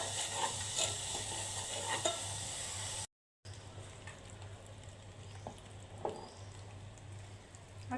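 Three tablespoons of sugar stirred in a pan to make caramel for pudding, a soft continuous sizzle with faint scraping and light ticks under a low hum, briefly cut to silence.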